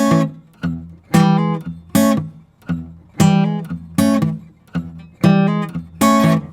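An electric guitar plays a boom-chuck riff: an alternating bass note and chord strum in steady rhythm, with hammer-on accents, clear and close with no other sounds.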